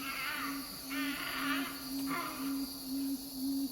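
Summer insects in dry eastern Tasmania: a steady, rhythmic cricket-like chirping pulses at regular intervals over a constant high buzzing drone.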